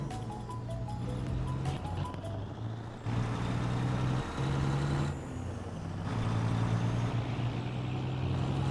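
Heavy truck engine in American Truck Simulator, a sub-500-horsepower workhorse rig, droning steadily at close range with a deep hum and some shifting changes in pitch, plus brief air-brake hiss and beeps early on.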